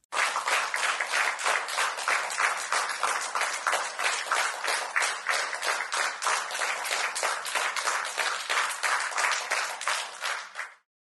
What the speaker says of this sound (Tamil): அமைச்சர்கள் அனைவரும் எழுந்து நின்று கரகோஷம் எழுப்பி வாழ்த்துக்களை தெரிவித்தனர்